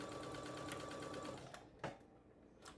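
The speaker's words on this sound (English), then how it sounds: "It feels good to be sewing again." A sewing machine stitches an accessory case in a steady close whir, then stops and gives a brief final burst.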